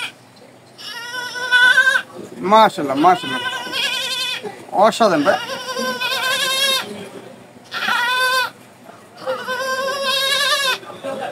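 A voice imitates a goat, giving a series of wavering, nasal bleats in several bursts, close and loud, with another person briefly talking in between.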